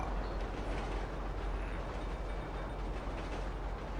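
A train in a video game rumbles on in a steady, dense low roar with a faint whine above it, alone and unbroken.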